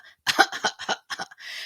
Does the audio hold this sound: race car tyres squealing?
no